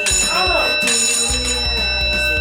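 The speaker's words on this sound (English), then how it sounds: "if you mess up, you get a very loud bell and a very bright blue light" An old school bell, rewired into a homemade bell ringer game, rings loud and continuous, a harsh metallic clangor with a voice briefly reacting over it.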